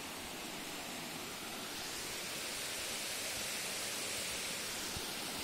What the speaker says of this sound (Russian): И вот следующий водопад.